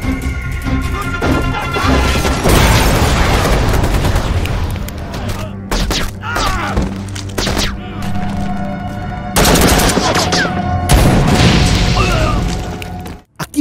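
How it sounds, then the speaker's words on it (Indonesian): Gunfire cracks out amid a chaotic action-film shootout between gangsters, with bursts of shots and crashing impacts over dense music and effects, loud and sustained throughout. "Lalu tiba-tiba terdengar suara tembakan dari kejauhan."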